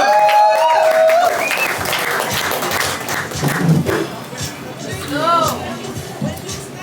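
An audience at a poetry slam applauds a slam poet, with clapping mixed with crowd chatter, cheers and a few whistles, fairly loud and sustained before gradually thinning out.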